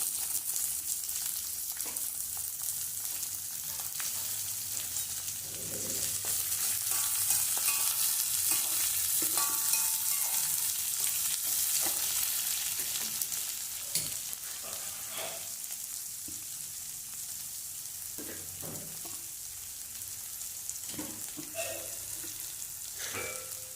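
Curry leaves, green chillies and onions sauté in oil in a pan, a steady bright sizzle with occasional stirring scrapes and clinks, swelling louder midway and then settling.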